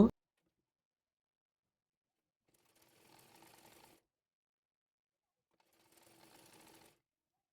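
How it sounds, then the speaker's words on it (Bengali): A sewing machine stitching a kamiz sleeve onto the body panel, heard as two short, faint runs of fast mechanical stitching with quiet between them. "এবার হাতাটি বডি পার্টের সঙ্গে রেখে সেলাই করে নেব।"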